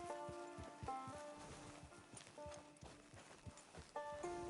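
A horse walks at an even pace in Red Dead Redemption 2 Online, hooves clip-clopping rhythmically close by, with a whinny and quiet background music underneath.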